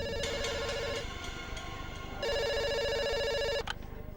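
A telephone rings in a pizza shop, rising from quiet to a sharper, louder burst. Two bursts of bright electronic trilling are separated by a short pause, and no one talks.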